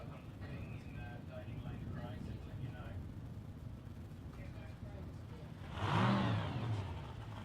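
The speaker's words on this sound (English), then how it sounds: "That familiar grunt of a supercharged engine" A supercharged drag racing engine at an ANDRA Grand Final event barks into life with a rough, loud grunt near the end, after a stretch of distant engine rumble and crowd or announcer talk.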